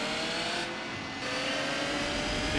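A race car engine in Gran Turismo 4 holds a loud, steady high-revving drone close up, with a brief dip in pitch partway through as if shifting, then pushes on at full strain.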